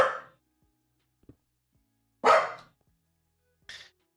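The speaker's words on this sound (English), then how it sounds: "You're a noisy dog." A dog barks indoors, with a few short, separate barks spread out over several seconds and quiet gaps between them, one bark louder and fuller than the rest.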